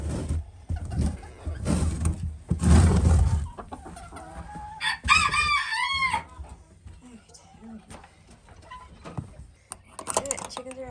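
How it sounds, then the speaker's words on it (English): Chickens cluck in scattered bursts and a rooster crows loudly partway through, close by, while people talk intermittently around the birds. "Alright, chickens are out."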